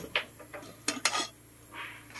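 Metal kitchenware clatters in a few sharp bursts: light taps, two louder clanks close together, then a softer scraping rattle of a cooking pot lid.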